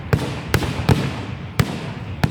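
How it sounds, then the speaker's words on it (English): Fireworks bursting over a beach during a Canada Day show: five sharp, loud booms spaced irregularly over a couple of seconds, each with a brief rumbling tail, over a low crowd murmur. "I can feel vibrations in my body from the fireworks."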